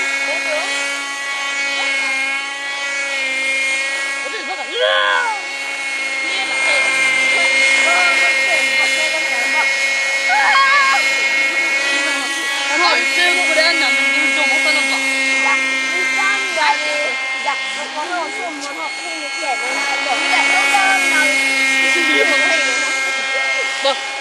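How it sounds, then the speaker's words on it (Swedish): Radio-controlled model helicopters flying at an RC meeting in Olofström, a loud, sustained high-pitched whine with shifting tones as the rotor speed rises and falls. "Och de är uppe och flyger med helikopter här."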